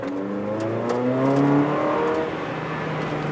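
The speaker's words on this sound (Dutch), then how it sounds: "Ik ga voor de allereerste keer in een RS6 rijden." An Audi RS6 engine revs hard under acceleration, a steady loud roar with rising harmonic tones climbing in pitch over a few seconds, close and continuous with no talking.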